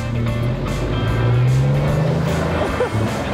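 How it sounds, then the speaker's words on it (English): An 18-wheeler truck thunders past on the N1 near Beaufort West, a loud close engine roar with a rising low drone that swells and then eases away. "We just got dropped by an 18-wheeler."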